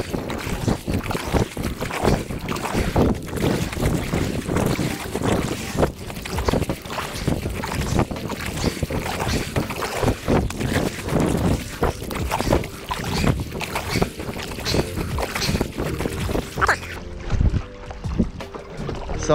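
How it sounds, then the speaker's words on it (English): Stand-up paddle board with a two-fin setup, a Blackfin Ultra CX, paddled fast against wind and choppy water, with steady wind buffeting the microphone and repeated splashy paddle strokes and water slaps throughout, no talking. "Now we're going to test this board against a bit of wind and some chops. So let's try to paddle fast and see how it goes."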